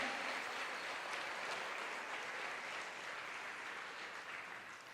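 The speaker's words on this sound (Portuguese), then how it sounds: "estenda suas mãos para os céus e aplauda ao Senhor" A church congregation applauds together in a steady, dense wash of clapping that carries on for several seconds, moderately loud and slowly fading, with no voices.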